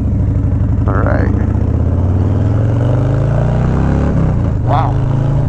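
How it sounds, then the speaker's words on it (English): A loud Harley-Davidson Low Rider S motorcycle with a Two Brothers two-into-one exhaust idles and revs close by, its deep throaty exhaust rumbling steadily with brief throttle blips. "first time on the bike after I installed the 2-in-1 Two Brother exhaust"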